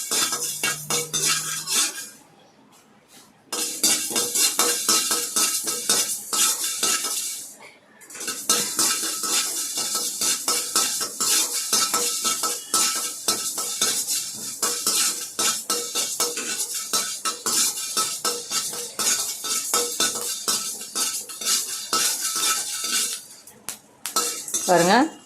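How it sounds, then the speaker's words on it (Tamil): Fenugreek seeds roast in a kadai on a low flame for tamarind rice, stirred continuously with a metal spoon that scrapes and clinks rapidly against the pan, with two brief pauses in the stirring. "வெந்தயம் பொரிய ஆரம்பிச்சிச்சு"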